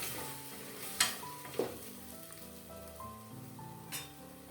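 Ingredients for a Malabar spinach sambar fry quietly in a pan, a soft continuous sizzle with a few sharp clinks of a spoon against the pan, faint and close with no talking.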